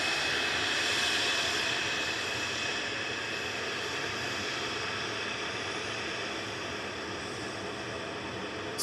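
A Boeing 777 airliner approaching Manchester Airport produces a faint, distant, steady engine hiss and rumble that fades slightly as it goes on, with no talk.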